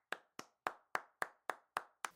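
Eight sharp, evenly spaced hand claps from a single person at a Bulgarian comedy roast, crisp and close, with no talking.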